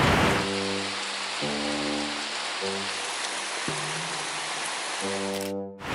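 Steady rainfall hisses continuously, with a low musical tone playing in sustained notes over it.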